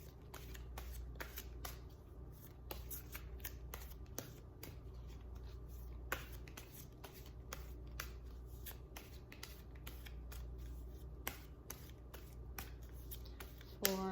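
Tarot cards are shuffled and drawn for a pick-a-card reading, a close, steady stream of crisp riffling snaps and slides that continues throughout.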